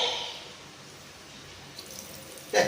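Water runs to waste from a tap in a steady, faint stream, with a short, louder splash right at the end.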